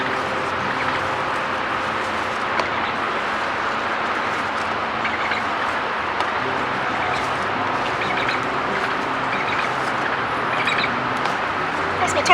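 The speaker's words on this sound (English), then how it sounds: "chickens want some tomatoes. That's what you're hearing is" Chickens cluck and murmur steadily in the background in a garden, with outdoor ambience and faint bird chatter throughout and no clear speech.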